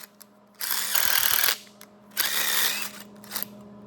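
A tap chasing threads back out of a 1949–51 Mercury during an air-bag suspension job, heard as two close bursts of gritty, buzzing mechanical grinding, each lasting about a second, with a brief third spurt after them.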